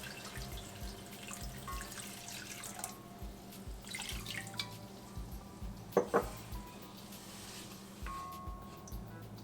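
Water runs and trickles into a pan in a quiet kitchen, about 1.5 cups poured, with a brief louder splash partway through.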